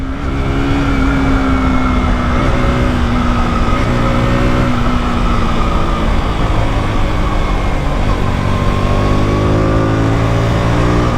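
A KTM RC 200 motorcycle engine pulls steadily in third gear on a wet racetrack, holding mid revs with a continuous loud drone close to the rider and no voices.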